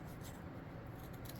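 Scissors slicing through a sheet of strong paper, close and quiet, with a steady soft rasping texture and no talking.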